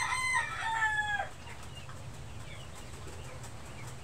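A rooster crows once, loud and close, the call ending after about a second, followed by quiet rustling farmyard background.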